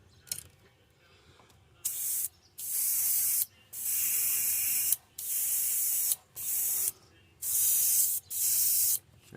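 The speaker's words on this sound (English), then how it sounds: "and you take and you spray this at a distance, not super close." Pearlescent white paint sprayed from an airbrush onto a fishing lure in a pink belly perch pattern, steady hissing bursts of one to two seconds each, repeated about seven times with short gaps between.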